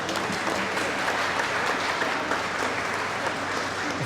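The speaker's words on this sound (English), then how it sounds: "Let's give a big round of applause." Sustained, dense applause from an audience at a ukulele summit, steady and full for the whole stretch with no voices rising above it.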